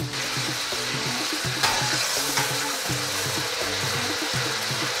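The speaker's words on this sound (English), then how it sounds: "Just added some salt to our calamari and we fry it." Calamari sizzles steadily as it fries in a pan for paella, a continuous bright crackle with no voices, over a faint low, tonal hum.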